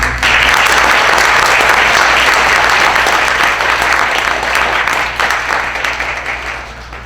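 Applause from a school audience at a student-of-the-month assembly, a dense steady wash of many hands clapping at full strength, easing off slightly toward the end.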